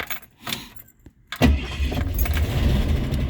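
The engine of a 1969 Rambler American 440 wagon in need of a carburetor rebuild cranks briefly and catches, then settles into a steady, close rumbling idle.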